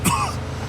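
A single short, raspy cough from an injured character in the video game Mafia 2, close and fairly loud, fading quickly into quiet background.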